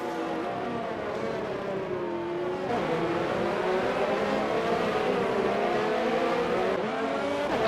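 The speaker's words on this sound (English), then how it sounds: "Ferrari Nut gets really wide out of that last corner." Race cars in a Breakout Racing League video game event at a China track scream past with layered, rising and falling engine whines, several cars revving and accelerating together, loud and continuous with no talk.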